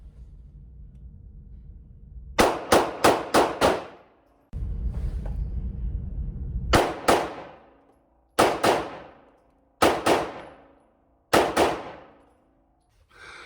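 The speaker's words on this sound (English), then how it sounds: "the latter-day Detonics, which had its first test firing today, as you probably just saw" A Detonics pistol loaded with Federal Punch ammunition fires in quick bursts: a rapid string of five sharp shots, then single and paired reports spaced a few seconds apart, each ringing out loud and close against near silence.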